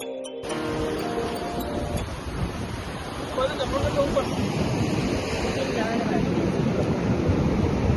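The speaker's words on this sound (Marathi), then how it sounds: "खूप लाटा येतात आणि पाणी वाढतंय असं वाटतंय" Ocean surf rolls onto a beach at Alibag, a continuous roar that swells louder in the second half, with wind buffeting the microphone throughout.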